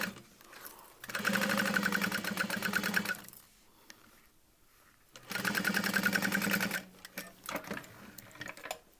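A sewing machine stitches a leather bag seam for a convertible backpack in two long, steady, whirring runs of fast needle strikes, separated by a quiet pause and followed by faint handling noises.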